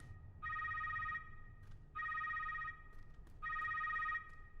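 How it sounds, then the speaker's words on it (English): A desk phone rings in the Secret World Legends video game, sounding three separate bursts of bright electronic trilling with short pauses between them over a low ambient hum. "A phone is ringing."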